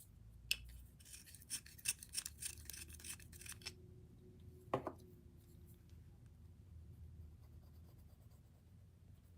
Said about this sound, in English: I just gotta sharpen this a little bit.